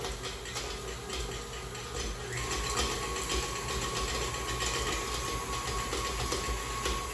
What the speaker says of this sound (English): we'll turn the electric mixer on to medium-high